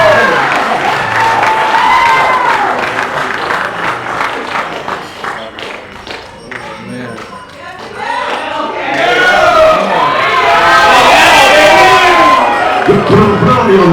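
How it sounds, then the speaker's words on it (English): Wedding guests clap and cheer loudly for the best man after his speech, a dense crowd ovation with whoops that dips briefly midway, then swells again, with voices mixed in throughout. "Give him a round of applause right there, everybody."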